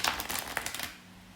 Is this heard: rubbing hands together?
no